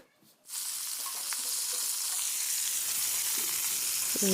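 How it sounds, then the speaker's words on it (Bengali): Cauliflower drops into hot oil and breaks into a dense, steady sizzle that swells after a quiet start and holds close and even, with a few faint clicks near the end. "ফুলকপি ভাজা করছি"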